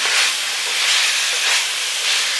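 Cut okra sautéing in a hot pan, a loud, close, continuous hiss and sizzle that swells and eases in slow waves, with no talking.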